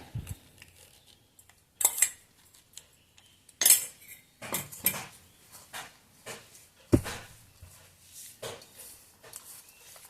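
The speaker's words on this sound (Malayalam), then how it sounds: "ഇത് രണ്ട് നന്നായി മിക്സ് ചെയ്യാം" A spoon clinks and scrapes repeatedly against a bowl while a gooseberry and beetroot mixture is stirred, in irregular close bursts with quiet gaps between.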